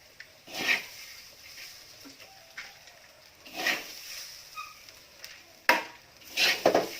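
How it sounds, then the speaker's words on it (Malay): Glutinous rice fries and is stirred in a pan with a little oil, producing soft intermittent scraping strokes and faint sizzling with occasional louder clinks of a utensil against the pan. "Ambil masa dalam 2-3 menit saja ya, teman-teman dan puan, untuk menggoreng beras pulut ini."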